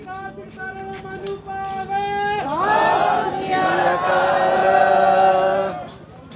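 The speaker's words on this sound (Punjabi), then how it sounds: "ਸੋ ਜੈਕਾਰਿਆਂ ਦੀ ਗੂੰਜ ਤੁਸੀਂ ਸੁਣ ਸਕਦੇ ਹੋ" Sikh crowd at a gurdwara after an Anand Karaj wedding raising the jaikara: a single voice leads the call, then many voices answer in a loud, sustained roar lasting several seconds.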